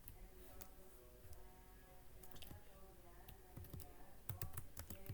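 Faint key clicks from typing Python code on a computer keyboard, sparse soft taps under a low background hum, growing busier toward the end.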